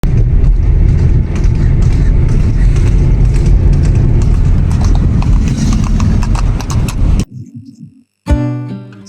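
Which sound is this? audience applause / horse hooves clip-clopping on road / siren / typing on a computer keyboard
horse hooves clip-clopping on road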